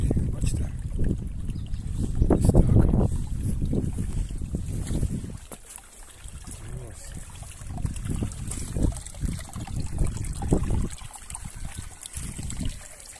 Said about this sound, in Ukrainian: Водички багато. Струмок швидкий, швидкий.